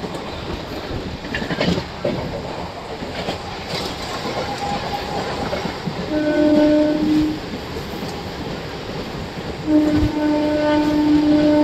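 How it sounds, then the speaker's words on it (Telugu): The Bhimavaram–Vijayawada MEMU express thunders through Mandavalli railway station without stopping, with a steady roar and rail clatter, sounding its horn in several sustained blasts that grow louder toward the end. "మన ట్రైన్ వచ్చేసండి మండవల్లి రైల్వే స్టేషన్ అయితే స్కిప్ చేస్తుందండి."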